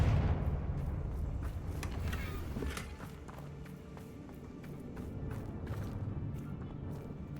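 Confringo blasting curse explosions in the video game Hogwarts Legacy: a dense, rumbling barrage of repeated blasts and sharp impacts that stays loud across the whole stretch.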